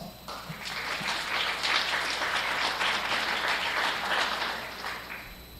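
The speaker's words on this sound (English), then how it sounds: "Let's give these kids a nice big round of applause." Audience applause at a county fair junior goat show, a dense steady patter of many hands clapping that swells and holds for several seconds before tapering off.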